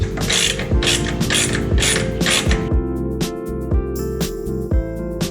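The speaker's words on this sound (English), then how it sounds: "I'm just going to take this off and just get a feel for how tight this is." Ratchet wrench loosening a nut on a Triumph Bonneville T100 pannier rail, loud close clicking strokes in quick runs followed by slower, separate clicks, with no talk.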